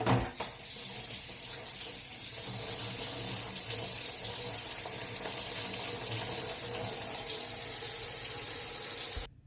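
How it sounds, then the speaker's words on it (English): Water running from a kitchen tap into a sink while hands are washed, a steady close gushing stream lasting about nine seconds before cutting off abruptly, with no talking. "So let me wash my hands."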